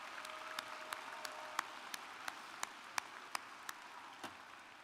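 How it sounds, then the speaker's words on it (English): At a spring commencement ceremony for a college of fine and applied arts, about a dozen sharp, separate claps sound faintly and unevenly, with no full crowd applause building. "So now you can give the applause for mom and dad."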